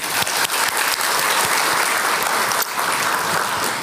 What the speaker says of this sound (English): Please join me in congratulating the graduates with a warm round of applause.